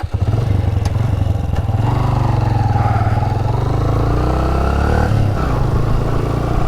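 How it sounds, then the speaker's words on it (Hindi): A motorcycle engine runs steadily and loudly up close throughout on an unpaved mountain road near Pathyali Top, Azad Kashmir, with a low rumbling drone, slight revving changes and some rattling clatter. "जब मेरा बाइक चलता है तो फिर ये इस मशीन की आवाज़ आती है।"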